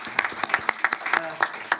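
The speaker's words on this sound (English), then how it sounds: "I think we'll give him a round of applause too." Conference audience applauding a speaker, a brief burst of scattered, uneven claps from a modest crowd indoors, fairly close and moderately loud.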